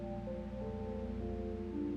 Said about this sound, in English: This is the sound of 40 hertz